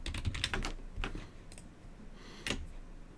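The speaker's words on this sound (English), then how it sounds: "I'm just going to start typing on the keyboard." Typing on a computer keyboard while entering text for a diagram in Microsoft Visio: quick, irregular key clicks, close and fairly quiet, with no talking over them.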